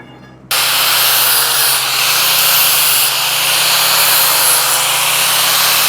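A power tool starts abruptly and cuts through heavy steel end pieces for a pallet base, a loud, sustained whining roar with a steady low hum underneath that runs unbroken at close range.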